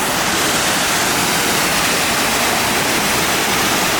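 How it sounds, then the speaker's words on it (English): Penfield Falls in Jamaica's Blue Mountains pours in a loud, unbroken roar of rushing water, close and steady with no voices. "Look at this waterfall"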